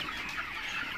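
Broiler chickens crowded in a poultry shed while eating, a dense chorus of soft overlapping clucks and chirps, close and continuous over about a second.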